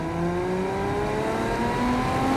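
Porsche Boxster 987 flat-six revving hard in second gear toward 6,000 RPM, a loud, steady rising engine note with harmonics climbing continuously from inside the car, no talk.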